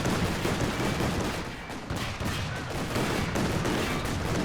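Dense, continuous gunfire from machine guns and sniper rifles in a Company of Heroes 2 match on the Rails and Metal map, a loud unbroken wash of rattling shots and battle noise with no clear pauses.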